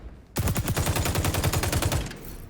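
Rapid automatic fire from an ACR rifle in the shooter game XDefiant, a steady burst of evenly spaced loud shots lasting about two seconds after a short quiet start.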